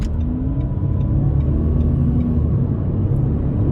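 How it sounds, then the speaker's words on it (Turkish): Automatic Renault Clio with a 1.0 TCe engine accelerating at full throttle beside a motorway, a loud, steady low engine drone and road rumble heard from inside the car, with no speech. "Direkt bir sıfır 100'e başlamak istiyorum. Arkaya müsait oldukça. Şu an dip gaz mesela."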